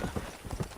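Horse hooves clip-clop in the video game Red Dead Redemption on PS3, a quick run of rhythmic thuds at close range.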